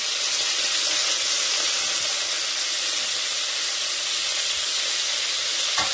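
Gongura leaves fry in a pan after green chillies, giving a constant loud, close hiss and sizzle that runs unbroken from start to finish.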